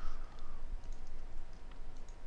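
Typing on a computer keyboard during Android Bluetooth programming, a quiet irregular patter of key clicks over a steady background hum.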